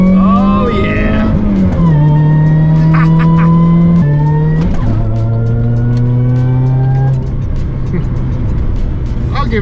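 A supercharged Saturn Ion Redline with port injection revs loudly and repeatedly, its engine note stepping up and down through several sustained pitches with a whining blower over the top, close and continuous.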